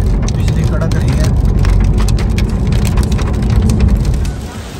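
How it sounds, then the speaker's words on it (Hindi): Heavy rain from a thunderstorm, with hail, pounds down in a dense, loud, continuous roar close by, easing slightly near the end. "फ्रेंड्स यहाँ बारिश आ चुकी है, बिजली कड़क रही है"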